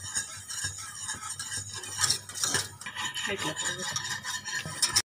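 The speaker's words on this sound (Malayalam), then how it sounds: "അപ്പം നിങ്ങൾ ഇത് ഇളക്കിക്കൊണ്ടിരിക്കണം അല്ലെങ്കിൽ ഇത് പെട്ടെന്ന് അടി പിടിച്ചു പോകും" A spoon scrapes and stirs thickening ragi porridge in a pot, a steady close rubbing and scraping that runs continuously with no talking.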